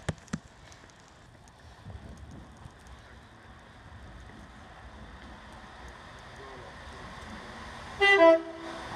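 A new electric train passes through Crewe station with a low, steady rumble that builds slowly, then a short, loud horn toot near the end. No one speaks.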